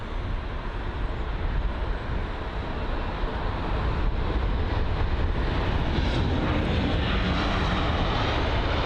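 An airliner on approach to London Heathrow roars overhead in a loud, sustained broadband jet rumble that builds slightly and stays strong throughout, with no voices.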